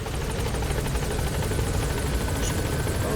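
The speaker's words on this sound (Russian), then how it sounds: "давайте вызывать вертолет" Helicopter in the video game Metal Gear Solid V: Phantom Pain arriving at a landing zone, a steady loud rotor thump and engine roar that stays close and constant throughout.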